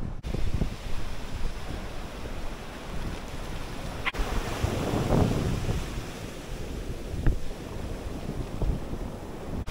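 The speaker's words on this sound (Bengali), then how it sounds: "সমুদ্রের গর্জন দূর থেকেই শোনা যাচ্ছে" Rough sea waves at Bagda beach roar in a continuous, heavy wash of surf, with gusts of wind buffeting the microphone and a swell of louder breaking water midway.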